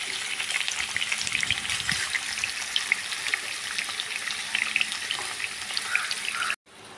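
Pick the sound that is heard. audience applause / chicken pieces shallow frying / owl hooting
chicken pieces shallow frying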